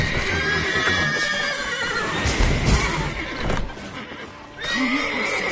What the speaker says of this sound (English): Gotta call the horses before we wake the guards.